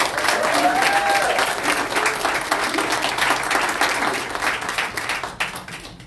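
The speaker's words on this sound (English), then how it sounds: "let's give them one more round of applause" Congregation applauding a class at a Sunday church service, a sustained wash of many hands clapping that fills the room, thinning slightly toward the end.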